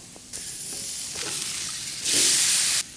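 A ribeye steak goes onto a hot grill, with soft, continuous hissing that jumps into a loud, bright sizzle for about a second before cutting off.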